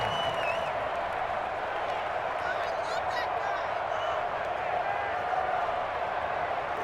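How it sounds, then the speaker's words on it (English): A stadium crowd roars in the Madden NFL 21 football video game as a big third down approaches. The cheering and applause stay loud and steady throughout the clip. "the crowd getting into it as we come up on a big 3rd down"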